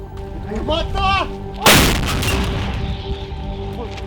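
A single loud, close Ukrainian artillery gun blast booms and rolls off into a long rumbling echo, with a few shouted voices just before it.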